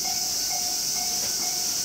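Holiday Rapid Kamakura train bound for Minami-Koshigaya approaches platform one, a steady hiss and rolling rumble filling the station with faint repeating tonal whines.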